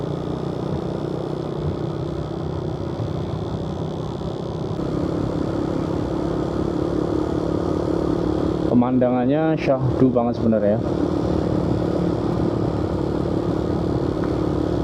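An old Yamaha Vega motorcycle climbs a straight uphill village road, its steady engine drone running throughout at moderate loudness while someone talks briefly over it.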